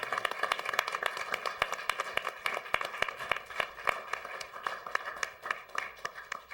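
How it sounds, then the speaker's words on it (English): An audience at a town board meeting applauds veterans: sustained clapping from a modest crowd, with many distinct individual claps heard somewhat distant and fairly quiet. "let's give our veterans a round of applause"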